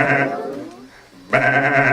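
A human voice imitates sheep bleating, giving two loud, drawn-out nasal bahs separated by a short quiet gap, close up and alone.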